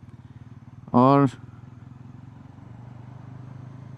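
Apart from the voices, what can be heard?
Bajaj Pulsar NS400Z motorcycle accelerating in second gear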